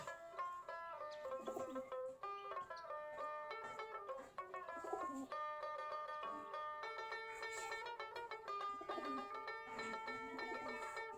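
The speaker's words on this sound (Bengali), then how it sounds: "সম্পূর্ণ দেশি গিরিবাস কবুতর কেউ বলে গুল্লা কবুতর" Several Giribaz pigeons coo repeatedly and overlapping, soft throaty calls close by, with no talking.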